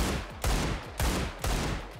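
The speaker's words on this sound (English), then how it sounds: "pretty hefty hand cannon you got there. I mean, it is a deagle after all" Three heavy Desert Eagle hand-cannon shots fire in a Minecraft superhero mod, evenly spaced about half a second apart, each a loud booming crack with a rumbling tail.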